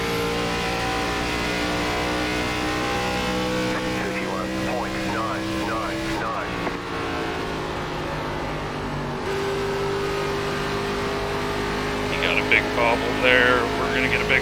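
An ARCA Series stock car engine in iRacing at Nashville Superspeedway drones steadily at high revs as the car accelerates, with other cars close by and a person talking over the noise.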